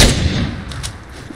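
Gunfire in the online shooter PUBG, a short burst of rapid shots right at the start that fades into a brief echoing tail, loud and with no talking.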